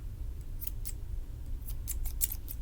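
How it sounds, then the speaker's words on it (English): Scissors snip thread just above a knot on a beaded kandi star necklace, a series of short, crisp close cuts spaced irregularly over a low background hum. "Then you trim right above the knot or else it'll come out."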